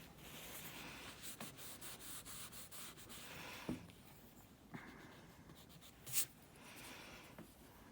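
Pencil drawing and shading on paper for an eye study: soft, steady scratchy rubbing strokes in a quiet room, with a few brief taps and a short brighter scrape near the end.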